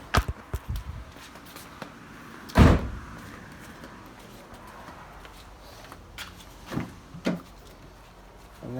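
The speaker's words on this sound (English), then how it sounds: "And then I closed this door" A car door on a Mitsubishi Eclipse with a 2.4 engine shuts with one solid, close thump, followed by scattered small clicks and handling noises in a quiet garage.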